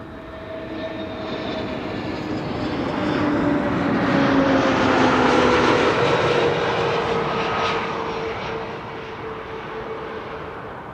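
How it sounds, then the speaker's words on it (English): A 12-year-old Embraer Phenom 300 business jet passes at Amsterdam Schiphol, its engine whine and roar swelling to a loud peak midway and then fading with a falling pitch as it moves off, no speech over it. "It's an Embraer Phenom 300, 12 years old."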